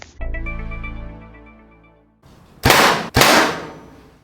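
A 150-grain Water Buffalo broadhead arrow is shot into a steel plate, making a loud metallic ring that slowly fades. Two sharp, harsh bursts follow in quick succession, close by and with no talk.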